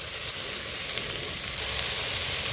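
Chopped onions and four green chillies fry in a small amount of oil for an egg puff filling, a steady close sizzle with faint stirring, constant and alone.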